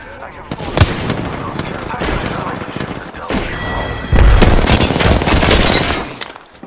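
Loud, near gunfire aimed at a tower in the video game Apex Legends, with sharp shots and rapid bursts, and heavier automatic fire in the last few seconds.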